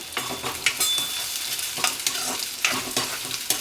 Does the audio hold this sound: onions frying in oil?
yes